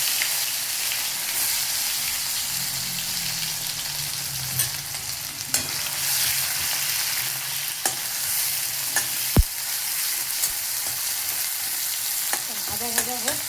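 Onion and tomato frying in a pan with five-spice (panch phoron) give a steady, even sizzle throughout, with occasional light scrapes and clinks of a stirring spoon, close and moderately quiet, no voices.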